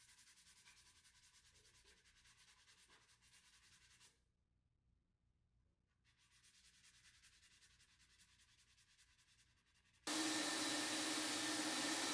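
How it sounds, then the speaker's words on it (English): Steady, scratchy sanding strokes rub across a flat furniture surface, pause briefly, resume, then give way to a much louder continuous whooshing roar at the end. "I would give them a completely dead flat sanding"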